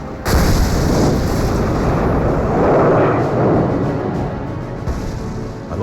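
Heavy wartime explosion in a tank battle, a sudden loud blast that rolls into a long rumbling roar and slowly settles, dense and booming with no voices over it.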